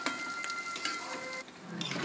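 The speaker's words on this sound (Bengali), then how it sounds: "এটাকে আমি সামান্য একটু ভেজে নেবো" Pieces of elephant foot yam fry lightly in a pan, giving a close, steady sizzling hiss with a few soft stirring sounds and no talking.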